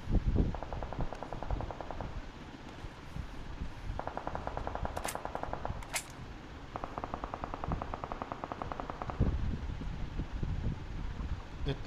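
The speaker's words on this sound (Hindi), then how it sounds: "इतनी सारी गोलियां चली, इतनी सारी गोलियां चलने के बाद सिर्फ एक ही बंदा मरा।" Bursts of rapid automatic gunfire in BGMI come in several long volleys, separated by short pauses and scattered single shots.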